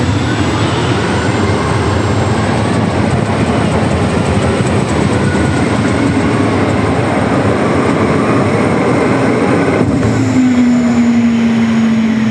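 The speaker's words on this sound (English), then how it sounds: "This is the Walsh Brothers Motorsports turbine-powered machine." A turbine-powered super modified pulling tractor runs down the track, a loud, sustained jet-like roar and whine holding steady throughout, with a rising tone appearing near the end.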